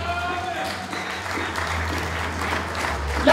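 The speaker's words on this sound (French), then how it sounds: "Si l'église peut acclamer." A church congregation applauds steadily and warmly throughout, a dense wash of clapping close by, with a voice speaking over it.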